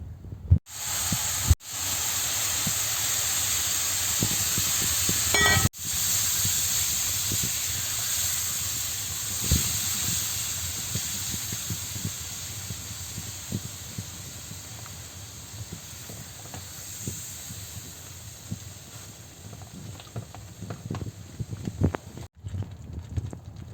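Milk, water and sugar syrup poured into hot semolina halva, a steady loud sizzling hiss that runs through the whole stretch and slowly eases, with scattered small pops and stirring clicks.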